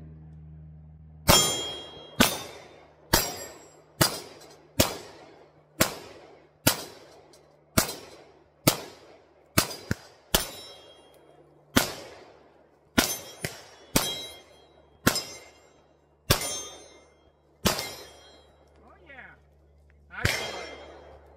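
A CZ P10F pistol fires at targets on a range, about twenty sharp shots with steel targets clanging and ringing. The shots come at a steady pace roughly one second apart, loud and close, with one brief pause.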